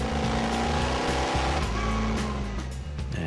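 The Tumbler Batmobile from Batman Begins, its engine roaring with a dense, loud, continuous growl of low rumble and buzzing harmonics that holds steady for the whole stretch, no voices.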